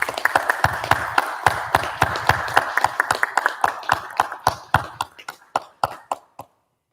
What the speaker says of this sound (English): Please join me in a round of applause for Laredo Sector's First Lady,